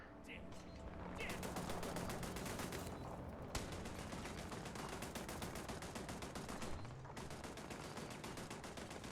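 Automated turrets in the video game Starfield fire rapid, steady streams of shots, a loud continuous mechanical rattle broken only by brief pauses.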